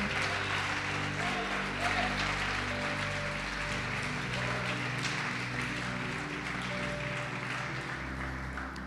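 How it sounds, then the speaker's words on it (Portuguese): Steady applause from a large church congregation fills the room, continuous and dense, with faint sustained tones and some voices underneath. "Pode aplaudir o Senhor Jesus e glorificar"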